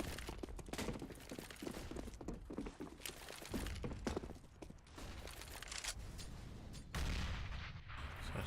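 Pistol gunfire in a competitive Counter-Strike match, with sharp shots repeating in irregular bursts over a dense, steady bed of game sound throughout, one louder passage near the end.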